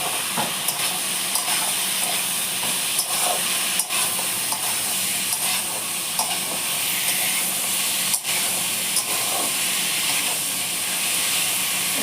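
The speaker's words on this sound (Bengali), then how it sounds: "দেখো পেঁয়াজ টমেটোতে কাঁচা লঙ্কা দিয়ে কিমা দিয়ে একটু ভাজা ভাজা করছি" Chicken keema frying in a pan with onion, tomato and green chili, producing a loud, continuous sizzle and hiss with repeated scraping stirs of the spoon throughout, no voices.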